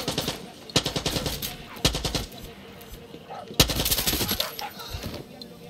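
Automatic gunfire in Far Cry 6: repeated rapid bursts of shots crackle in quick succession, loud and close, with short pauses between volleys over a busy game backdrop.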